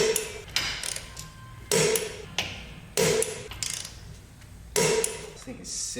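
A mid-range impact gun works on a bolt of a forged turbo M50 engine in an E30, firing in short loud hammering bursts of rapid impacts, about five in all, separated by brief pauses, with a voice speaking at points.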